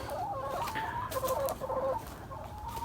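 Hens kept in a chicken tractor inside a greenhouse cluck and murmur continuously, a close, busy run of short rising and falling calls.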